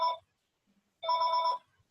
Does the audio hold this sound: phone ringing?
yes